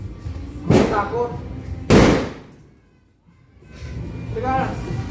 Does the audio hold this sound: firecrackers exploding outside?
yes